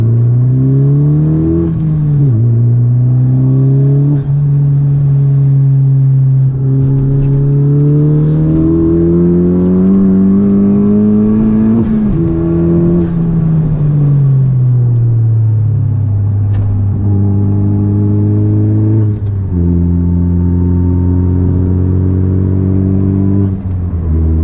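A modified 10th-generation Honda Civic Si with a bigger turbo revs and pulls hard through the gears, its loud engine tone climbing in pitch, dropping at shifts, then rising again, heard from inside the car.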